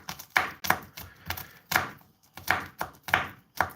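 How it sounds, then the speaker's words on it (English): A knife dices garlic thinly against a cutting board in quick, uneven strokes, about a dozen sharp close taps with no voices. "dice this garlic really, really thin"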